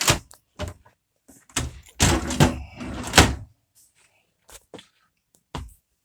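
Drawers in a 2005 Damon 4075 RV being lifted and pulled out, giving a series of close wooden thumps, rattles and sliding scrapes, with a few lighter knocks afterward.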